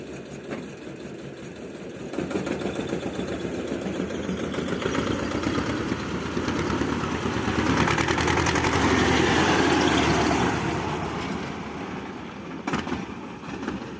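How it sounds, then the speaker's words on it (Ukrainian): A small single-cylinder petrol engine from an Izh motorcycle on a homemade tractor idles with a rapid, even putter, swelling slightly louder midway, then settling back. "такий тракторець з мотором бензиновим від Іжуським одноциліндровим"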